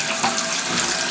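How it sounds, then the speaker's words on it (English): Tap water gushes steadily into a toilet tank during a clogged-stack drain repair, a loud continuous hiss and rush with no voices. "Now we're gonna turn the water on."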